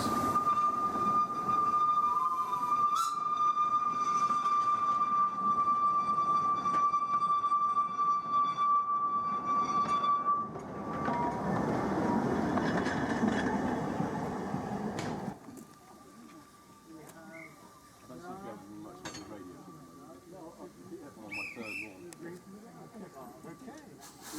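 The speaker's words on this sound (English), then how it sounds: "Now with the token and the right of way from the guard, Alpha departs for Statfold Junction." A Hudswell Clarke 0-6-0 steam locomotive pulls away on the Statfold Barn Railway, with a long steady tone and rumbling rolling noise that swells and then fades as the train moves off, under a faint voice.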